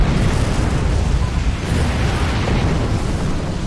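Torpedo explosion in the space combat game Star Trek Online, a loud, sustained low rumbling blast that fills the whole stretch with dense, roaring noise and no talk.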